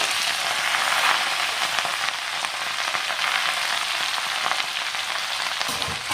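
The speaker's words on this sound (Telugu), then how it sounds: "ఇలా ఫ్రై అయిపోయిన తాలింపులో ఆకు అనేది వేసుకోవాలి" Curry leaves sizzle in hot oil tempering in a pan for a leafy curry, a steady bright crackling hiss lasting throughout with small pops, close and loud, with no voices.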